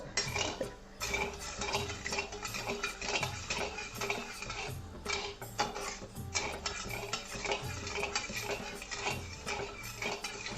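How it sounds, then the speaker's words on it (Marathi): A spoon stirs sugar syrup in a pan until the sugar dissolves, producing quiet, rhythmic scraping and light clinks against the metal. "फक्त साखर विरघळेपर्यंतच आपल्याला हे असं विरघळेपर्यंत ते असं चमच्याने फिरून घ्यायचं"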